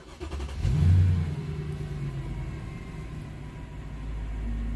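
A Mercedes engine turns over with a brief loud rumble as the ignition is switched on, then settles into a steady low idle hum, with no talking.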